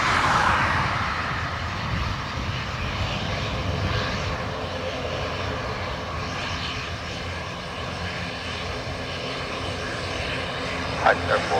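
A fixed-wing aircraft at Dublin Airport gives a loud, continuous engine roar that slowly fades across the whole stretch, heard at a distance with no talk over it.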